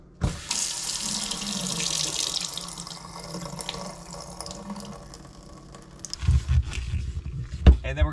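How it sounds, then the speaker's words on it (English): Water rushes out of a cut plumbing pipe into a towel in a steady hiss and splash, then fades to trickling before some handling clunks near the end. "there's going to be water in this pipe that's going to come out"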